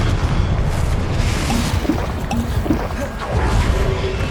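A Confringo blasting spell goes off in the video game Hogwarts Legacy: a few quick booming impacts with whooshing bursts, loud and close over a rumbling battle background.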